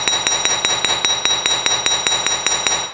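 A small hammer repeatedly strikes a hard metal washer to give it a hammered finish, producing a loud, close series of about fourteen sharp metallic blows at a steady, even rhythm with ringing overtones, no talking.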